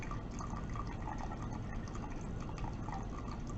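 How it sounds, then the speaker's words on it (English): Methylene chloride pours steadily from a container into a glass separatory funnel in a chemistry lab, a faint, continuous trickling fill with no voices over it. "I'm going to pour into the separator funnel, of course."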